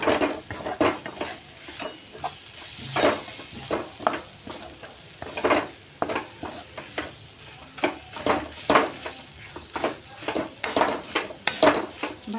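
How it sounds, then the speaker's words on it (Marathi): Pav bhaji masala and Kashmiri red chilli powder sautéed in hot oil in a pan: a steady close sizzle with repeated scraping and clinking strokes of a spoon stirring against the metal, no voices. "पण थोडा वेळ असे आपण तेलामध्ये परतवून घेणार आहे"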